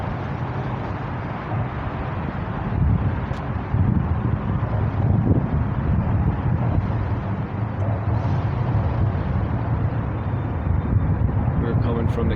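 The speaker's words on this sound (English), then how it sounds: "I hope it's not too windy on the microphone." Steady wind buffets the microphone on the Ohio and Erie Canal towpath in Cuyahoga Heights, a loud low rumble running through the whole stretch with faint background sounds.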